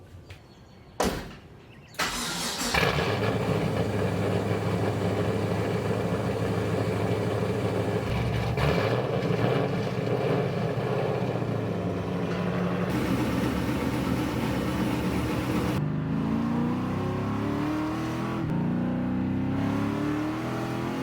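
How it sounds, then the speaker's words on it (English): A straight-piped LS1 V8 swapped into a BMW E36 cranks and fires up, then holds a loud, raw, rumbling idle nearby with small shifts in pitch as it settles. "who doesn't want to start on a straight pipe LS1?"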